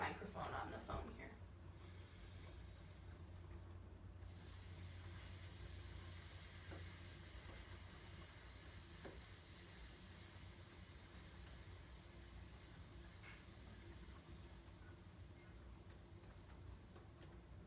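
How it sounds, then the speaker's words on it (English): A person doing a vocal warm-up breathing exercise releases a long, sustained hissing exhale, a bright, steady hiss starting after a few seconds and held evenly near the microphone for over ten seconds. "We're holding that hiss as long as we can."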